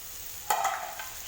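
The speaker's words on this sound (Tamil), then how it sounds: "இந்த மசாலாவோட முதல்ல தக்காளி நல்லா மிக்ஸ் பண்ணி விடுங்க" Tomatoes being stirred into masala in a pan over a medium flame for an onion kurma: a single sharp scrape of the spoon against the pan cuts through a soft, steady sizzle.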